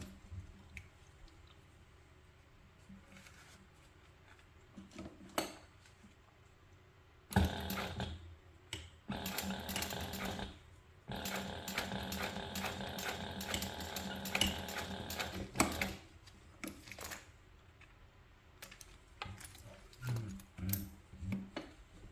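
A sewing machine top-stitching a crossbody bag runs in short mechanical bursts, then in a longer steady stretch of rapid stitching, with clicking and ratcheting between runs and no voices.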